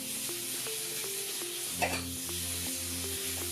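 Fresh pasta cooks in a hot pan with fresh tomatoes, giving a steady close sizzle and bubbling, with faint stirring taps and one brief louder scrape partway through.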